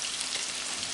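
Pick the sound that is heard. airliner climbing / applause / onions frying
onions frying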